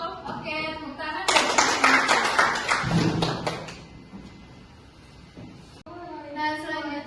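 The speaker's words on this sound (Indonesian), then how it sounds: "Oke, tepuk tangan" A class of children claps hands together in a burst of loud, dense claps that fade into scattered taps, with children's voices chattering around it before a teacher's voice resumes.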